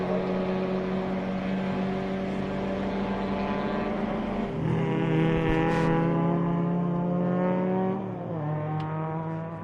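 A Porsche race car in a historic racing heat drones steadily with a buzzing engine note, its pitch climbing and dropping through gear changes at moderate distance.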